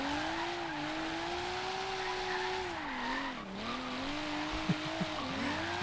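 A Rocket Bunny-kitted Nissan Silvia in Forza Horizon 3 slides through a drift, its tires squealing in a long wavering whine over a steady engine drone, close and continuous.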